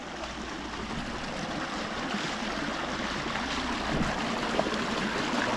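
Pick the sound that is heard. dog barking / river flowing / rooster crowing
river flowing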